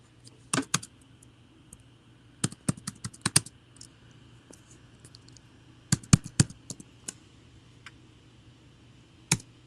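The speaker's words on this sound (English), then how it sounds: "Let me type somewhere off screen." Keys clattering on a computer keyboard in irregular bursts of quick presses separated by pauses, close and fairly quiet over a faint steady hum, with no voices.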